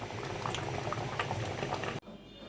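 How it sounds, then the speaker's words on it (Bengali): Tomatoes boiling in a pot, a dense bubbling and popping of liquid heard close for about two seconds before it cuts off abruptly into near silence. "টমেটো সেদ্ধ হয়ে গেছে"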